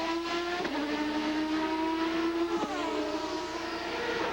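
An Indy car at speed on the Vancouver street circuit during 2003 qualifying, its engine holding a loud sustained whine with two sharp shifts or braking dips as it passes through a chicane, no talk over it.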